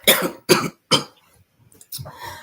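Three sharp coughs in quick succession close to the mic, followed by a pause and a faint voice murmuring afterward.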